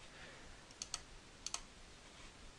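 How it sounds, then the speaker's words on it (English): Two pairs of quick, light computer keyboard key clicks, each pair a close double tap, sound faintly over a soft steady background hiss. "hit M on the keyboard"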